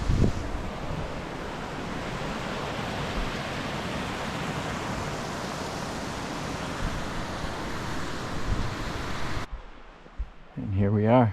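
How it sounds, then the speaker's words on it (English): A creek rushes steadily beneath a small bridge on the Washburn Trail near Yosemite's Mariposa Grove, a broad, constant wash of flowing water mixed with wind buffeting the microphone, which cuts out near the end as a voice begins speaking. "We got a nice little bridge here crossing the creek"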